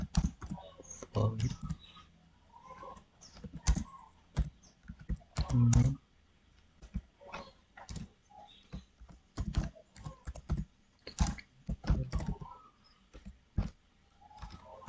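Computer keyboard clacking as Java code is typed for a data structures assignment, bursts of quick keystrokes under steady spoken commentary in Indonesian.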